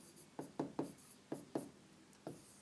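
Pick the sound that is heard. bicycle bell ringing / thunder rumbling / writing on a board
writing on a board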